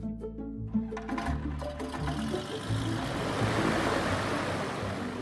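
A light aircraft engine runs nearby, a low rumbling hum that grows louder and rougher as it revs up, with no talking.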